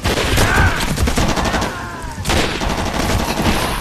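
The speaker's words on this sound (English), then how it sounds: "Who's shooting?" Dense bursts of gunfire in the ShellShock 2 video game, loud and continuous, with rapid overlapping shots and a brief lull in the middle before the firing resumes.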